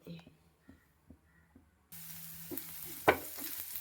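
Crushed garlic and fennel seeds sauté in coconut oil, a sudden hissing sizzle starting midway after a few soft taps and clinks, with a sharp spatter burst near the end.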